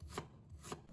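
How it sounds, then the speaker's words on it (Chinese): Knife slicing a peeled piece of fresh ginger on a cutting board, two distinct crisp chops about half a second apart, quiet and close with no talking. "准备1块去皮的生姜，把它切成片"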